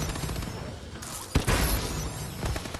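Grenade launches and blasts in Call of Duty: Advanced Warfare multiplayer, a sharp explosive crack followed by a rumbling burst amid dense, noisy gunfire and battle ambience.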